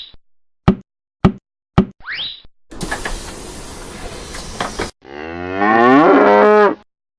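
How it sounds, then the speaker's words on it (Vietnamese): A cow moos in one long, loud, drawn-out call near the end, coming after a series of sharp cartoon-like pops and a stretch of hissy noise, with no speech. "Con bò"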